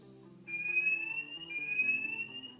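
A ceiling heat detector sounds its alarm during a heat test with an XTR2 tester, a steady high electronic tone starting abruptly and holding, close and moderately loud over low hum.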